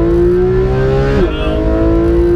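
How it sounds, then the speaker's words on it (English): A Porsche 991 GT engine screams at high revs, a loud sustained tone that briefly stutters and dips as it touches the rev limiter, then resumes climbing, heard up close from inside the car. "You can just hit the rev limiter there before getting back on it."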